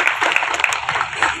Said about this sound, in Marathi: श्री पंढरीनाथ भगवान आपल्या या सन्मान करता टाळ्या वाजवा